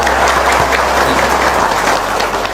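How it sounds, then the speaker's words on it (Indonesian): A crowd claps throughout a religious lecture gathering, producing loud, steady, close applause that continues unbroken for a couple of seconds without speech over it. "Kurang semangat tepuk tangannya."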